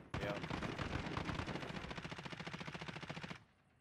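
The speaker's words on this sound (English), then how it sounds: "He started shooting me." Sustained rapid automatic gunfire in Call of Duty Warzone, a loud continuous burst of shots lasting over three seconds before cutting off abruptly.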